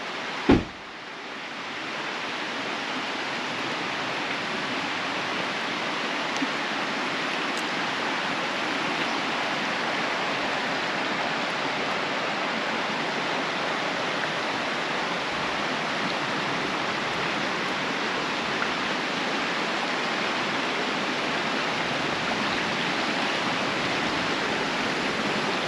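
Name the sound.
river water flowing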